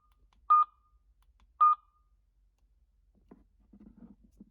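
A Midland MXT275 GMRS radio installed in a Bronco gives two short, bright electronic beeps about a second apart as its channels change, followed by faint low rustling.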